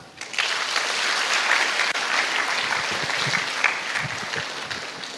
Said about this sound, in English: You don't want to clap to her?